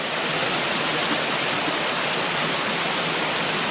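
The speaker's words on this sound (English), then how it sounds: "I'm going to go down the bottom now and shoot the waterfall from the bottom up" The Suh waterfall roars as a steady, broadband rush of falling water, close and loud, unbroken from start to finish with no voices.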